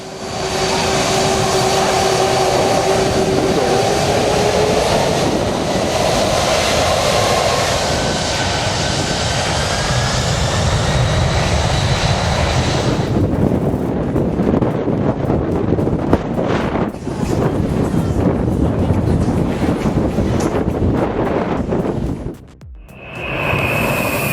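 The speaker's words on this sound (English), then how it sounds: "full power engaged, generating a powerful jet wash that hurled beachgoers backward" Airliner jet engines at full power blasting jet wash over beachgoers, a loud sustained roar with heavy wind buffeting the microphone that cuts off abruptly near the end.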